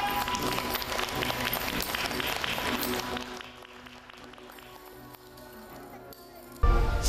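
Crowd applause for a youth nunchaku martial arts demonstration, a dense steady clapping that eases after a few seconds, with voices talking over it.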